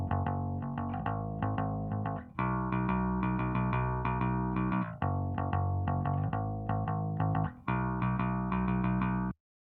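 A single layer of mixed bass guitar played alone, with a chorus-like effected tone, sustained notes changing in phrases, steady and loud with no talking.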